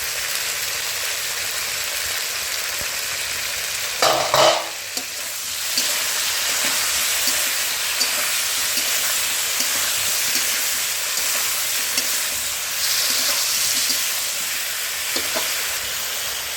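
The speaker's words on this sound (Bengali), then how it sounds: "সবজিগুলো আমি ঢাকা দিয়ে ভেজে নেব।" Vegetables for shukto fry in a pan, a loud, continuous sizzle and crackle with a few brief clatters of stirring or a lid, and no voices.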